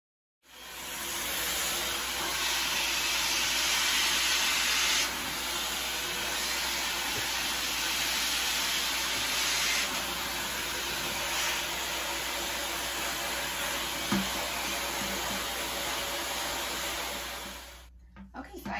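A Hauzzo 1400W ionic hair dryer with a brushless motor blows with a steady, loud whooshing hiss that runs nearly unbroken, its airflow shifting slightly now and then before switching off.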